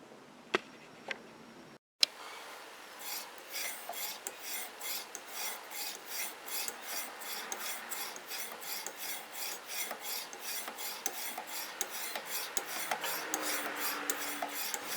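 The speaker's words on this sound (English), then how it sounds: "So everything's ready to go now to start sharpening. Blade square, we've got the actual honing stone in there with a bit of oil on it" After a couple of soft knocks, a knife blade is drawn across an oiled honing stone clamped in a sharpening system, a close, rhythmic rasping scrape repeated in even strokes for over ten seconds.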